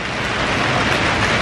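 Steady, loud hiss of rain falling outside at nightfall, a dense unbroken wash of drops close by with no talk over it.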